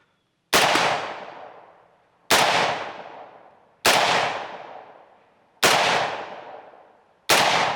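Five sharp, loud Kel-Tec SU16 rifle shots fired at an even, unhurried pace outdoors, each crack trailing off in a long echoing decay before the next.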